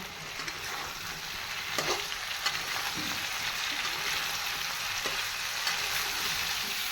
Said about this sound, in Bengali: জল ঝরিয়ে রাখা ফুলকপিটা দিয়ে দেবো, ফুলকপিটা দিয়ে আলুর সঙ্গে ভাজবো।